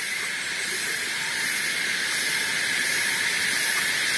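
Coffee boils in a pot over a fire in an agroforest in Krui, giving off a steady, hissing, steam-like roar that holds even and fairly close with nobody talking.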